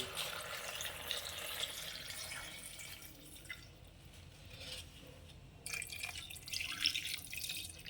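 Water poured into a pot of chicken stew with onion, a close, continuous splashing trickle that eases off briefly and then surges again.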